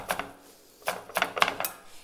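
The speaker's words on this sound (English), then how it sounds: "I'm gonna chop up some mint" A knife chops fresh mint on a cutting board: a few quick taps, then a pause, followed by a rapid run of four or five crisp close strikes.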